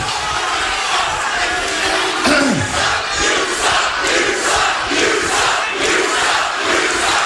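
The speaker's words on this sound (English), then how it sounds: "Not much respect from the crowd here at the Impact Zone." A wrestling crowd at the Impact Zone jeers and shouts at a wrestler in the ring, a loud continuous roar of many voices with rising bursts and a few distinct yells.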